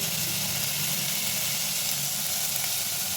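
Chopped onions with salt sautéing in a pan for green peas curry give off a continuous, even sizzle and hiss, close and steady throughout with no voices.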